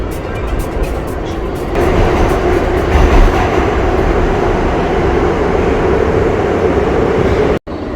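A New York subway train heading southbound toward South Ferry rumbles loudly from inside the car, a dense continuous roar with rail clatter that swells and then cuts out abruptly near the end.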